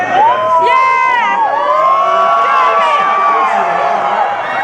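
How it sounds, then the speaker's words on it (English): A crowd of fans in Hong Kong screams and yells at an escalator, shrill overlapping cries rising and falling loudly and continuously. "So you guys gotta be careful when you're yelling at the escalator"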